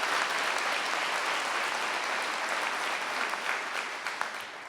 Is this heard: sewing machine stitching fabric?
no